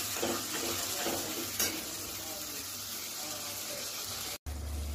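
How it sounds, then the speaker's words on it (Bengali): Onion, garlic and tomato paste fry in a pan with a dense, continuous sizzle close by and a faint scrape or two of stirring, sounding steady and even throughout. "টমেটোর পেস্টটা আমরা দিয়ে দেব। এটা কিছুক্ষণ ভাজা হতে দেব।"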